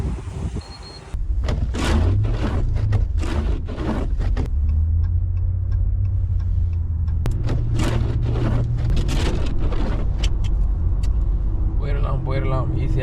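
A truck engine drones steadily from inside the cab on a long highway drive in the United States, loud and continuous, while someone talks over it throughout.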